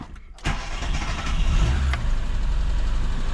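The carburetted engine of a ZAZ 1102 Tavria catches and is revved while the choke is on, a loud, close, rough roar that rises quickly and holds steady.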